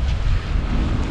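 Strong wind at the seaside buffets the microphone. Loud, constant rumbling gusts with no other sounds.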